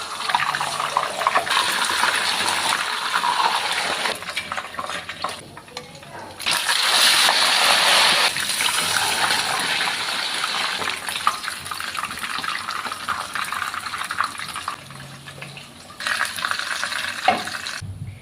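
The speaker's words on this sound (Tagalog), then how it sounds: "Piprito ko na." Tilapia frying in hot oil, a steady broadband sizzle and hiss that swells and eases over the length, with occasional louder spatters and no talking.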